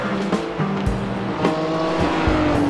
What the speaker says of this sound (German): Brad Kering in seinem herrlichen McLaren mit feuerspeiendem Auspuff